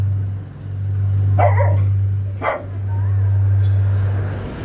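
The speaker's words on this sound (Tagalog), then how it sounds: "Init sa akin itong mga aso talaga." Two short dog barks ring out nearby over a constant low engine hum.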